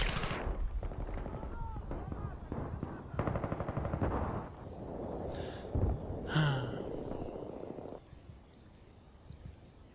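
Automatic gunfire in the video game Battlefield 3, rapid bursts of shots mixed with explosions and battle noise over several seconds, loud and close.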